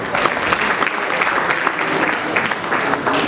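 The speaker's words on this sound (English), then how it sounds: "Another round of applause." Steady applause from a conference audience at a general assembly, a dense, continuous wash of many hands clapping at even loudness throughout.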